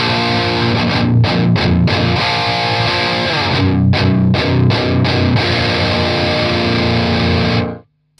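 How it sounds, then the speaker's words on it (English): Electric guitar through a standard distortion tone plays a dense, saturated riff with quick rhythmic chugs and brief choked gaps, loud and continuous for about eight seconds before cutting off abruptly. "So I've got my standard distortion."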